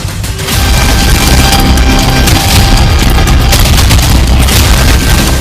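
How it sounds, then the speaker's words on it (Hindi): A blast goes off on a street in Kharkiv, Ukraine, during the Russian war, a sudden loud boom that rolls into a sustained roaring rumble as debris and smoke follow, dense and continuous for several seconds. "सामने ही धमाका, धुआं ही धुआं।"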